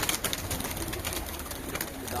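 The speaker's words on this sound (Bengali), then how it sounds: "বাপরে বাপ, সব কবুতর উড়ে গেছে" Pigeons in a loft where birds are nesting, a flock taking off together in a dense, steady flutter of wings with soft cooing, close and busy throughout.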